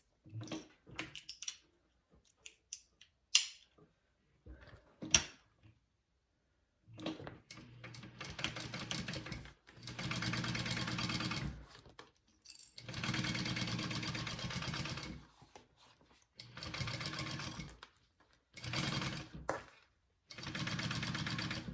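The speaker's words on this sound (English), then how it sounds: "sew that on at a 3/8 inch seam allowance" A sewing machine stitches a 3/8 inch seam through leather for a bowler bag, running in several bursts of steady mechanical whirring separated by pauses, close and fairly loud, with no one talking.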